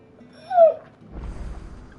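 A dog gives a single short, high whimpering whine that slides downward, then falls quiet under faint low background rustle.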